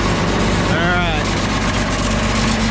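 A tractor engine idles steadily with a low, continuous rumble, and a short whine sweeps through briefly.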